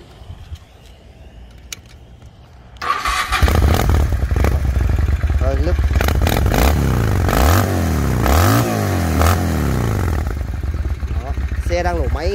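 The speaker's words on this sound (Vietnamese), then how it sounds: "Đang nổ máy anh em nhá." A 600cc Shadow motorcycle engine starts after a quiet moment and runs loudly up close, with the revs rising and falling several times.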